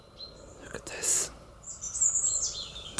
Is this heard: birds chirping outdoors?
yes